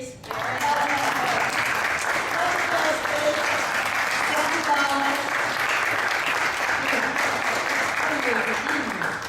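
An audience applauds a band at a tour opening, with steady, dense clapping and some cheering that fills the whole stretch, loud and close.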